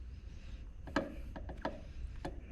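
Small screws being turned down into a Walther Q5 Match SF pistol slide to secure a Burris FastFire 3 red dot mount, giving a few short, close metallic clicks and scrapes spaced irregularly in quiet surroundings.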